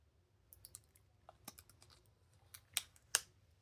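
Thin plastic film is peeled off the screen of a Motorola A630 phone with faint, sparse crinkles and small crackles that grow sharper toward the end. The sound is quiet and close.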